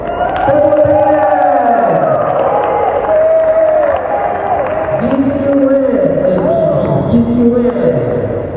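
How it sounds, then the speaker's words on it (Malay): Audience at a health showcase opening and closing ceremony claps and cheers continuously, loud and close, with a voice talking over the applause. "Tepuk tangan."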